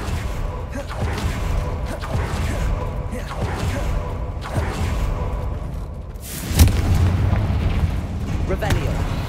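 Confringo blasting spells in Hogwarts Legacy explode in a rapid series of booming blasts, with a heavier, louder detonation near the end, mixed with sharp cracks and rumbling.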